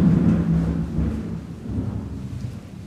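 Thunder rolls low and heavy over steady rain, a deep rumble swelling and fading through the whole stretch while rain hisses faintly on surfaces.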